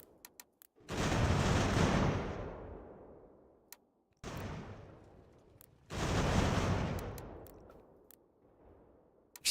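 Three heavy volleys of massed musket and artillery fire from Ultimate General: American Revolution, each a loud sudden blast that rolls and fades over a second or two, with sharp isolated shots in between.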